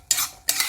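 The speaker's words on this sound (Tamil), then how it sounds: "வெந்நீர் சேர்த்து கிளறதுனால சீக்கிரமாகவே இது வெந்துடும்." A spoon stirs almond upma in a hot pan with hot water added, two quick scraping sweeps close up, separated by a short pause.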